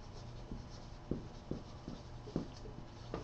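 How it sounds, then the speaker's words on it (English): A whiteboard being wiped clean by hand, soft rhythmic rubbing strokes about every half second, fairly quiet and close, with no talking. "let me just erase this really quick"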